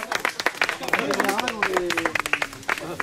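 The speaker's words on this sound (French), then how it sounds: "Allez, on l'applaudit là" A small group claps in a quick, uneven patter, fairly close and loud, with people talking and calling out over the clapping throughout.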